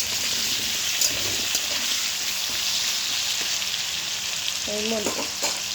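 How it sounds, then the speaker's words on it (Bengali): Potatoes sprinkled with salt sizzle steadily in hot oil in a pan, a continuous crackling hiss with a few faint knocks near the end, no talking. "আলুগুলো ভেজে নেবো আগে। অল্প একটু আলুর মধ্যে আমি নুন দিয়ে দিলাম। আলুটা ততক্ষণ ভাজা হোক।"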